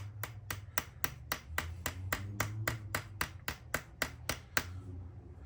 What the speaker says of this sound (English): I end up using, a body hammer here.